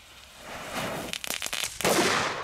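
A firecracker called The King goes off in a quick cluster of crackling pops that builds into a louder final bang, close by and without talk.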